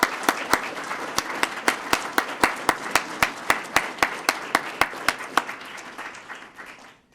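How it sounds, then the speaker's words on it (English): An audience at a police swearing-in ceremony applauds steadily for several seconds, many hands clapping together with sharp regular peaks, then the clapping thins out and fades at the end. "we can give you guys all a round of applause"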